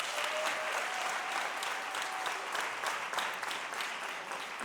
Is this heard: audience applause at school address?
yes